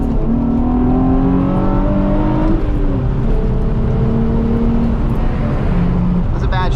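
Nissan 350z engine on the road, mistimed during a gear change: a loud, steady drone from inside the car whose pitch drops and shifts around the clumsy shift, with a brief rise near the end.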